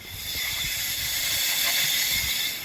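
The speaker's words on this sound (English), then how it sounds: "I do have the water coming out of the turbine pit here" Water pours steadily out of a low-head turbine pit, heard as a constant broadband hiss and rush with faint low gurgles underneath, close and moderately loud throughout.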